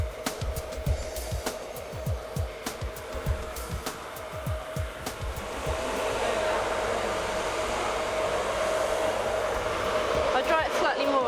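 In a hair salon, a blow dryer hums steadily while drying hair, its tone rising to a louder, fuller roar partway through, with rhythmic knocks and handling sounds underneath and no talk.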